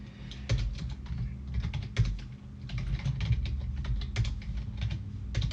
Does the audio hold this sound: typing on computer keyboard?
yes